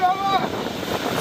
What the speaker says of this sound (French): Des vagues de plusieurs mètres de haut.